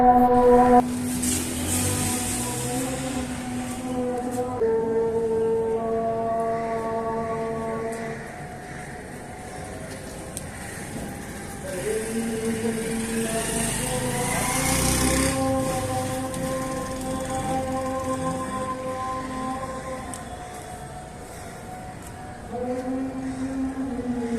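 A repaired electric scooter or e-bike motor runs steadily close by, giving a sustained whine with layered tones that shift in pitch partway through as the speed changes, with no talk over it.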